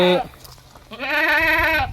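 A Malabari goat on a farm gives a loud, wavering bleat that fills the second half of the clip, after a short cry at the start.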